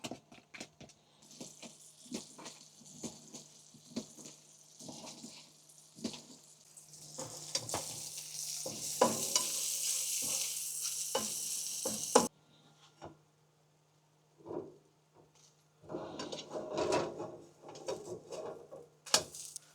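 Breakfast fries over a campfire, with pancakes, eggs and sausage cooking, giving a steady close sizzle that swells louder midway, broken by utensil clinks and stirring, then cuts off before quieter scraping sounds.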